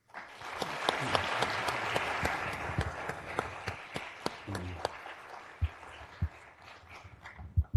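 An audience at a talk with a Pulitzer-winning historian claps to welcome him to the stage. The applause is steady and moderately close at first, then thins to scattered individual claps near the end.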